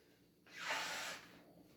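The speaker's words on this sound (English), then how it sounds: "The very first step is that you're going to blow your nose" One person blows their nose once before an antigen test. It is a single breathy, hissing blast lasting under a second, close and fairly soft, between quiet pauses.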